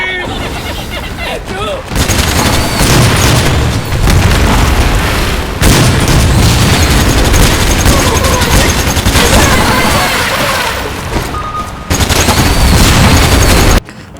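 Dense, loud gunfire and booming explosions from a Starship Troopers total-conversion mod for the Doom video game, sustained rapid bursts layered with blasts, with brief dips between intense barrages.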